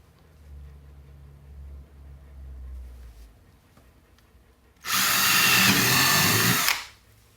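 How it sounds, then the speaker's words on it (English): Low rumbling at first, then a power drill with a 5/16 bit bores loudly in one steady burst of about two seconds before stopping. "And now we drill. I'm using a 5/16 drill bit."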